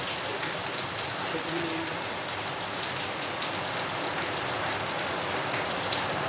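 Heavy, steady rainfall hissing loudly and evenly throughout, with no pauses.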